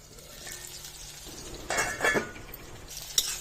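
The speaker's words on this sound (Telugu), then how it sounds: "ఈ ముక్కలని సిమ్లోనే పెట్టి వేయించుకోవాలండి నూనెలో" Brinjal and tomato pieces sizzle gently in oil in a pan on a low flame, a steady soft frying hiss with a few clinks and stirring scrapes near the end.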